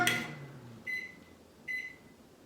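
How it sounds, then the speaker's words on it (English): A microwave oven beeps to signal it is finished: three short, evenly spaced electronic tones, clear and close in a quiet kitchen. "Magic sound, it is all done now. So we go to our microwave"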